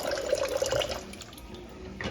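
Water running and gurgling in a kitchen sink, a steady close wash of liquid with small splashy drips, alone with no talk.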